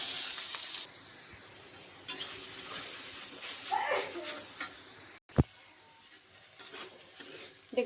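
Greens stir-fried in oil with dried red chilli and five-spice: a soft, steady sizzle under scraping spoon strokes, with a sharp utensil knock midway, fairly quiet and close.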